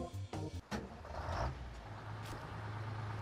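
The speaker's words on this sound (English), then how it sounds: "she sounds like a standard truck" Freight Lion truck engine in the Snowrunner video game, a low steady idling rumble that holds on after a few brief clunks and a hiss at the start.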